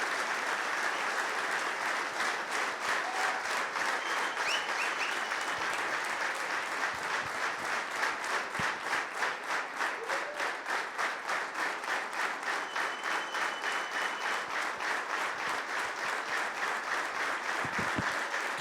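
A church congregation gives sustained warm applause welcoming a pastor, dense steady clapping from a crowd lasting the whole stretch, loud and continuous with no talk.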